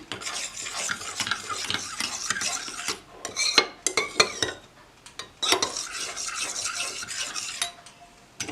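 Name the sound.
stirring homemade lemon soap mixture with lemon peel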